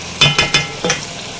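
Chicken frying in a pan for ginger chicken as a lot of ginger is added, giving four short clattering stirs and scrapes over a quiet sizzle, close and fairly loud with no talk.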